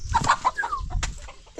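A white hen clucks close by in a short burst of several quick, throaty calls, one slightly drawn out, with no voices.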